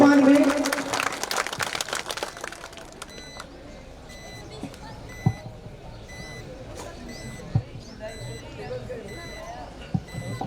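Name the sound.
crowd applause welcoming a speaker at a rally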